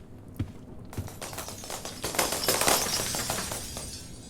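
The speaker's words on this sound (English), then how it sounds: "hear this chorus of lights smashing behind you. The pieces of glass hitting the floor as Rush turns the room dark." Lights shattering in the Roblox horror game DOORS as the entity Rush darkens the room: a burst of breaking glass followed by a dense cascade of glass pieces clinking and scattering across the floor, loud and building before slowly thinning out.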